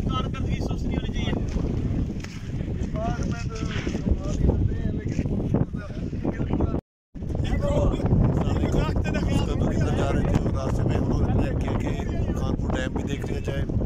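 Strong wind gusting near a dam on a trip to Skardu, a loud continuous buffeting roar across the microphone, broken by a brief dropout midway, with faint voices mixed into the rumble.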